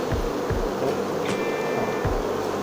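Honey bees drone in a steady, close buzzing hum, with a few soft knocks and thumps underneath.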